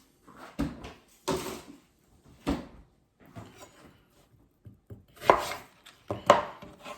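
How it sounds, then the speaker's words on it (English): A knife finely dicing an onion on a board in a claw grip, giving about eight crisp, separate chopping thuds in irregular clusters with quiet gaps between them. "So some nice fine diced onions using the claw technique"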